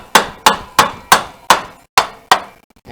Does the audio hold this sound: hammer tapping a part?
yes